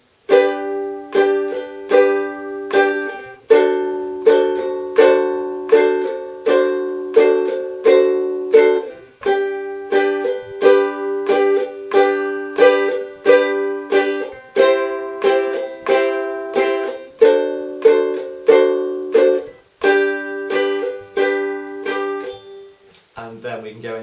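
A ukulele strums chorus chords in a steady down, down, up pattern, clear and close with bright repeated chord strokes and brief pauses at chord changes, no voice.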